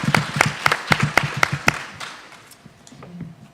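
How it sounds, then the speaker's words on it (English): Clapping from an audience at a juvenile justice conference session, a burst of distinct sharp claps that thins out after about two seconds into a quieter tail. "let them clap for themselves for a very big applause"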